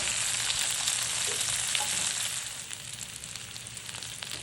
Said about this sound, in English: Potatoes are continuing to cook.